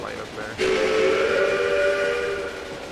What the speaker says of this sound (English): See another train coming ahead.